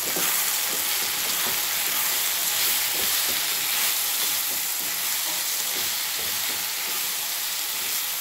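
Brinjal (vankaya) frying in a pan with turmeric and chili powder being stirred in, giving a loud, dense, continuous sizzle and hiss with scraping stir strokes, close and unbroken throughout.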